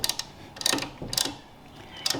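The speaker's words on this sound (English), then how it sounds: "it's just a wrench that allows you to spread the caliper" Quick ratcheting clicks from a caliper piston spreader wrench compressing a brake caliper on a McLaren MP4-12C, in short close bursts with brief pauses between strokes.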